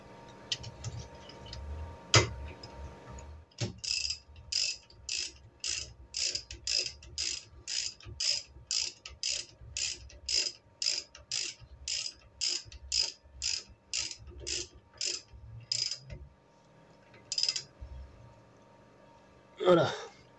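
A ratchet tightens the rear axle bolt on a Peugeot 206 CC, steady evenly spaced clicks in a long close run, with a few knocks before and a pause near the end.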